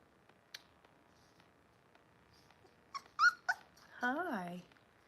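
Young puppies whimpering with a few short, faint high whines, then a longer rising whimper, close by in a quiet room with soft clicks around them.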